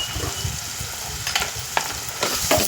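Red masala and black masala spices for dal fry with a constant close sizzle in a pan, broken by several scraping stirs of a spoon, no voices over it.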